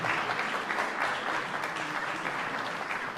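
A hall audience applauds during the prize giving at the 50th Rodnô Mòwa recitation contest in Chmielno, producing a steady, moderately quiet wash of many hands clapping with no break.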